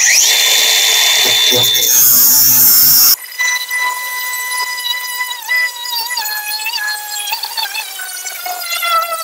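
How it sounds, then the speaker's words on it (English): An abrasive cutoff wheel slices through the rusted quarter panel of a car, giving a loud, harsh grinding screech that suddenly shifts to a high, steady whine as the wheel spins down. "I've found that a cutoff wheel is the best approach for this."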